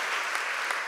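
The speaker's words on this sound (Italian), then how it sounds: "Un applauso ai nostri pastori che davvero ci danno buon esempio." Church congregation applauding its pastors at a Sunday gospel service in Milan, a dense, steady wash of clapping throughout the short moment.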